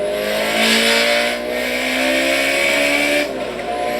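A car engine screams at very high revs around 9,000 RPM, past its redline, holding a steady roaring pitch with slight dips, loud and close throughout.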